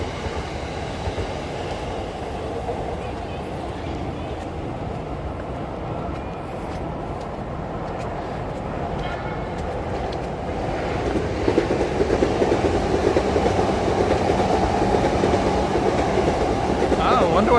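A Sotetsu-branded train rolls past close by in Tokyo with a continuous rumbling roar and rhythmic wheel clatter that grows louder toward the end.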